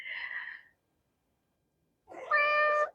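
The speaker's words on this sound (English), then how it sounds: "The kitty came to say hi." A pet cat meows twice, a short soft call followed after a pause by a longer, louder, tonal meow, close to the microphone with silence between.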